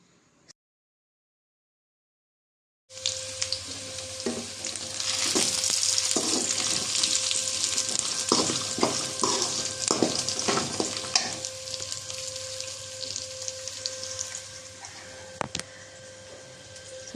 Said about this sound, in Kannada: ತರಕಾರಿ ಎಲ್ಲ ಹೆಚ್ಕೊಂಡು ಫ್ರೈ ಮಾಡ್ತಿದ್ದೆ.